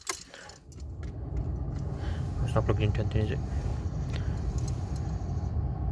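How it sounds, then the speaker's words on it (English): Ignition of a 2008 Vauxhall Astra H MK5 being switched on: a brief click and jangle of keys, then a steady low engine or electrical hum that holds throughout, close by, while people talk over it. "Now switch on the car just to check it works"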